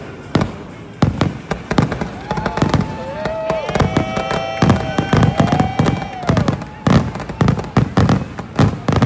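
Fireworks at the Busch Gardens Williamsburg theme park at night: a dense volley of sharp pops and crackles with whistling rockets rising, loud and fairly close, continuing throughout.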